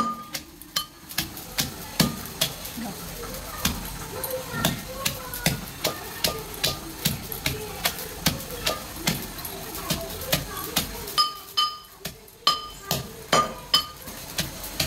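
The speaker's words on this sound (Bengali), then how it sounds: "এখন এটা বেটে নেবে আস্তে ধীরে ছেঁচে।" Raw taro is crushed slowly on a stone for a Bangladeshi taro bharta, with dried chillies added. The steady knocks and taps of stone on stone repeat at an even pace for the whole stretch and sound fairly close.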